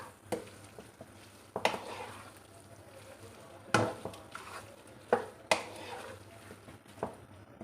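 Beef keema and capsicum (shimla mirch) with green coriander, garam masala and black pepper are stirred in a pan: intermittent scraping knocks and clinks of a spoon against metal over a faint sizzle, with no one speaking.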